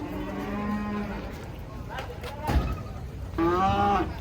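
A huge, heavy old bull, nearly 900 kilograms, lets out two drawn-out moos up close, with people talking and crowd noise around it.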